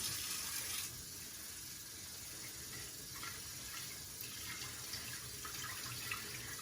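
Tap water runs steadily into a sink for washing lettuce, a soft continuous stream with faint splashing and no voices.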